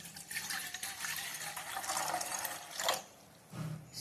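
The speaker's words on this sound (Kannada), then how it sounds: "ನೀರು ಹಾಕ್ತೀನಿ, ಮತ್ತೆ ಬೇಕಾದ ಹಾಕಬೇಕು." Water pours steadily into a pot for ragi porridge, a continuous splashing fill that stops briefly near the end before a short final pour.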